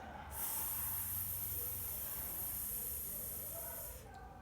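A long, steady hissing exhale, the Taoist healing sound for the lungs, carries alone and close for about four seconds before trailing off.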